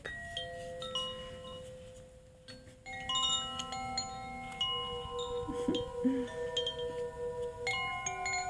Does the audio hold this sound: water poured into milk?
no